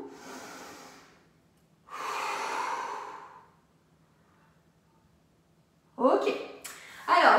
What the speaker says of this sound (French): Une autre respiration devant vous.